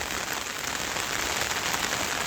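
Heavy monsoon rain pouring steadily, a dense continuous hiss of drops striking surfaces close by, with no voices.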